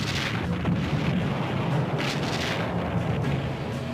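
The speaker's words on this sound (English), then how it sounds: "Now, equipped with a helicopter for spotting, her big guns speak once again." Battleship Missouri's big guns firing during the Korean War, a dense, sustained rumble of heavy booms with no clear gaps, loud and continuous throughout.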